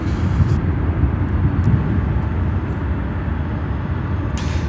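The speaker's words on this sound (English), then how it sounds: "That is Air China Cargo Flight 1018, service to Shanghai. That's a 747-400, 18 years old." An Air China Cargo Boeing 747-400, eighteen years old, at Chicago O'Hare, a steady broadband jet roar holding loud throughout with no pause, low rumble dominant.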